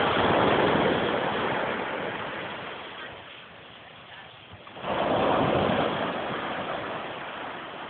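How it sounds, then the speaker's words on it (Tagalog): Strong ocean waves wash onto a dark beach in a steady, loud rush that eases midway and then surges back, with wind noise against the microphone. "At malakas ang alon."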